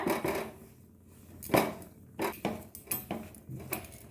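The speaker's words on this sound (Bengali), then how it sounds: "এবার খুব ভালো করে মিশিয়ে নিতে হবে চালের গুঁড়োর সাথে সুজিটা" Rice flour and semolina stirred together in a pan for jaggery sandesh, a spoon scraping and clinking against the metal in short, uneven strokes, close and fairly quiet with small gaps between.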